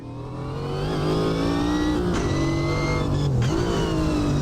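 Big American Chevy V8 in a Group C race car in Automobilista 2, roaring loud and close as revs climb and hold high, with two brief dips like quick gear changes.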